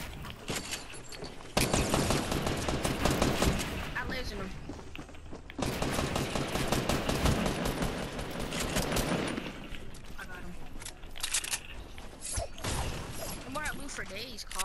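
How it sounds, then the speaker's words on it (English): Fortnite gunfire, bursts of rapid shots and mechanical clatter coming in waves at moderate level, with a person talking over the game sounds. "Oh, people shooting at me."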